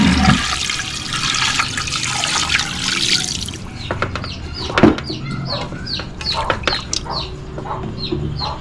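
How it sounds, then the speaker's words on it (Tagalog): Water is poured into a pressure cooker to boil pork mask for a crispy dish. A loud rushing splash fills the first few seconds, then gives way to quieter scattered clicks and chirping sounds. "Lalagyan natin ng tubig."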